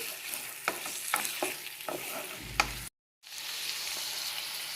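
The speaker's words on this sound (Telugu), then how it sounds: "చికెన్ బాగా వేగేంత వరకు వేపుకోవాలి." Half a kilo of chicken fries in oil in a kadai with a steady sizzle, broken by sharp spoon-stirring knocks, a loud scrape, and a brief silent gap before the frying resumes.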